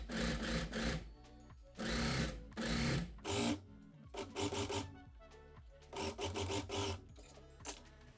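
A sewing machine stitches along the raw edge of a slit on a top in short, rapid bursts separated by pauses. The rattling runs are close and clear, with no talk.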